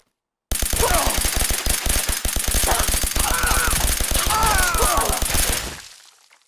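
Rapid automatic gunfire in Fallout 4, boosted by a 25% extra fire rate modification, rattles off in a dense, unbroken stream of shots for about five seconds before cutting out, with a voice briefly audible over the barrage.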